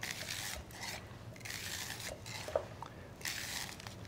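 A knife scraping and slicing kernels off a fresh corn cob, giving a steady close rasping rub with short pauses between strokes.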